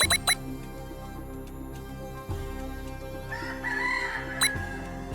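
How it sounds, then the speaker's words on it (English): Chickens cluck and crow in the video game DotAGE, a few short bird calls over steady tonal background game music. "Hello, new chicken."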